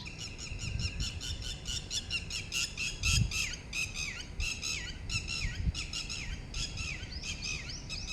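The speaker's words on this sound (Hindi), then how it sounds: "बहुत सारे चिड़िया मैं देख पा रहा हूँ," Birds calling on the leafy IISER Bhopal campus, a steady chorus of repeated squawks and chirps overlapping through the whole stretch at moderate distance, with no one talking.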